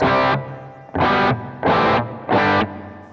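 Electric guitar run through a Jet Pedals Revelation ambient reverb and delay pedal, four distorted strummed chords at a steady pace, each ringing briefly then cut, with faint washy tails between them.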